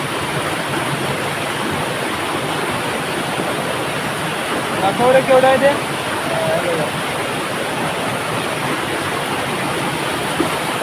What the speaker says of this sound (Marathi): पण आता संध्याकाळ पण होत आले आणि पाऊस पण त्याच्यामध्ये खूप आहे.